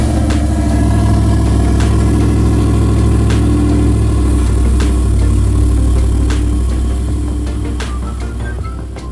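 A first-generation Ford Raptor's naturally aspirated V8 idles with a deep, loud, steady burble, close up, easing slightly quieter toward the end with no voices.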